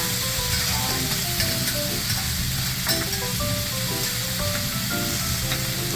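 Food frying in a home kitchen, a steady close sizzle with scraping stir noises and clinks running throughout, with no talk over it.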